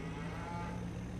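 Cows mooing in the farming video game Farming Simulator 22, a single low, drawn-out moo heard close and alone at moderate volume.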